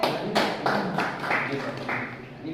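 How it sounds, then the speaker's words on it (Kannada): An audience claps in applause for a performer on a Kannada singing-show stage, a loud, ragged burst of hand claps in uneven waves that gradually thins out. "ಆಡಿಸಿದಾತನಿಗೆ ಬರಲಿ ಜೋರಾದ ಚಪ್ಪಾಳೆ"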